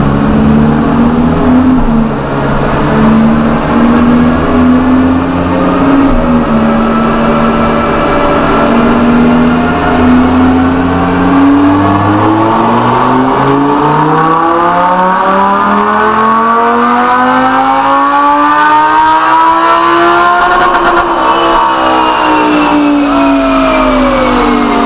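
A Lamborghini fitted with a Soul Performance aftermarket exhaust revs loudly and up close, its engine note climbing, dropping and climbing again in long sweeping pulls with no talking over it.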